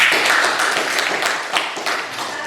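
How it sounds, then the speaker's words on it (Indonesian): Classroom of students at an Indonesian school lesson clapping their hands together, a loud, close, busy patter of many claps lasting a few seconds. "tepuk tangan untuk kita semua"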